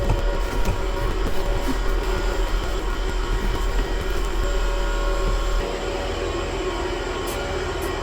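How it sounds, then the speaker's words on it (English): A loud fan unit at a car park charging station roars in a steady, dense broadband drone with a low hum underneath, continuous and close throughout, easing slightly toward the end. "that fan unit over there is very loud"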